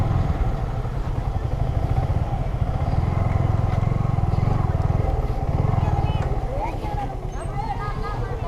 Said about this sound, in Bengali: বাইকটা ঘুরে রাখো